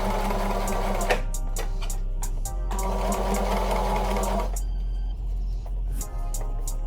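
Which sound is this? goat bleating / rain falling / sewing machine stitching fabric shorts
sewing machine stitching fabric shorts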